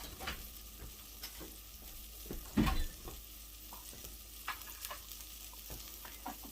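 Butter and cream sauce sizzling in a pan, a steady faint crackle broken by a few stirring scrapes and clinks, with one louder burst of bubbling midway.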